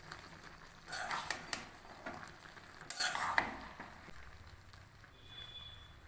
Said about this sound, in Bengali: এবারে ভালো করে নেড়ে চেড়ে নিতে হবে 5 মিনিটের মতো।